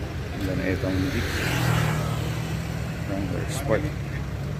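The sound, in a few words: Jeep Wrangler Sport driving off-road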